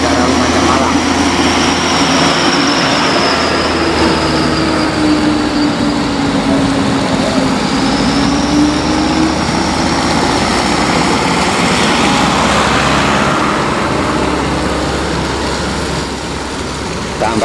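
Vehicles pass steadily along the muddy Piket Nol mountain road between Lumajang and Malang, cars, six-wheel trucks and motorbikes alike, engines droning continuously with a rising and falling whine and passing rumble, loud and close, with talk underneath.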